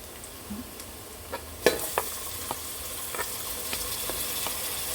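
Tomatoes sizzle and fry in a pan of spiced chicken cocktail pulav, with a steady hiss and scattered sharp clicks and scrapes as the mixture is stirred close up.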